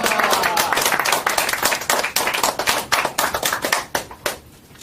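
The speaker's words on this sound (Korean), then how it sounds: "우리 강사님 나오실 때 큰 박수와 함께 할렐루야로 맞이하시겠습니다" Audience at a lecture event claps to welcome a speaker, a close, loud burst of many hands that thins into scattered claps and fades out near the end.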